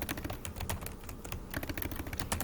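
Rapid clattering keystrokes on a computer keyboard, close and continuous, with no talk.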